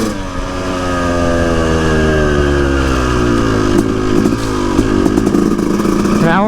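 A 2-stroke dirt bike engine screams loud and close as it accelerates, its pitch climbing steadily and dropping at a gear shift, then rising again in a continuous buzzing roar.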